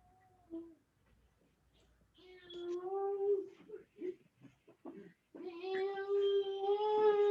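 A cat meows in the background with a few short calls, then drawn-out wailing cries that rise and waver, growing louder and more insistent toward the end.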